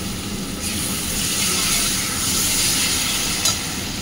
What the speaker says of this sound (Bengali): আর দিয়েছি 1 চামচ ঘি দিয়ে ভালো করে আবার একটু কষিয়ে নেবো।